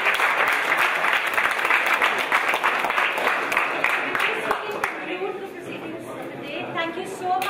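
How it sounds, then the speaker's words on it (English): Audience applause at a hackathon event in Hyderabad, dense sustained clapping for several seconds that thins and fades, with a voice speaking over the tail end. "So a big round of applause for the all."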